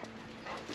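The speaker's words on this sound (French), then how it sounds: "Ça c'est mon chien, ça c'est mon chien, qui me dit bonjour" A pet dog whimpers in greeting with soft, faint whines and small yips close by, fairly quiet over a rustling background.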